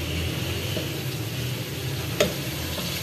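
Beef balti gosht curry dished out of a hot pan: a steady low sizzle runs throughout, broken by one clear utensil clink against the pan.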